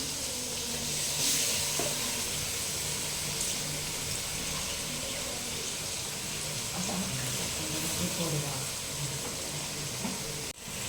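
A paste of ground ginger, garlic, shallots and onion fries in a pan for Tamil chicken kulambu, giving a dense, steady sizzle with scraping stirs throughout and a watery undertone, no talking.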